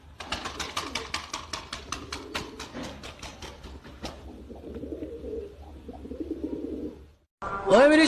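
Pigeons on a rooftop give soft cooing calls amid a run of sharp rhythmic flapping or tapping clicks, all close by, followed by a brief silence and then a louder burst of sound.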